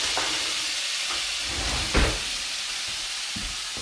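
Ground hamburger meat sizzles loudly in a hot pan while being stirred with a wooden spoon, a dense continuous hiss punctuated by a few soft scraping knocks.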